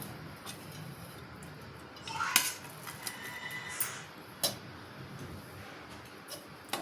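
Moong dal pulagam (pesara pappu pulagam), rested five minutes after the stove is switched off, is spooned onto a plate: a few sparse, quiet clinks and scrapes of a utensil against the pot and plate over soft room noise.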